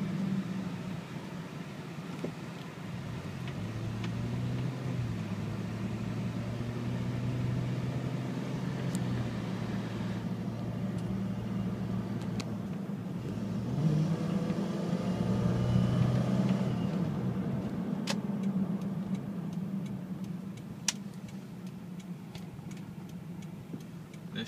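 A Toyota 4Runner truck driving on the road, a low steady drone of engine and road noise from inside the cabin, with faint ticking and a slight swell in the middle.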